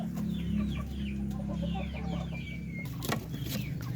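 Darag native hens cluck and murmur softly in a quiet coop, giving short, scattered calls. A low steady background hum runs underneath, and a few sharp knocks sound near the end.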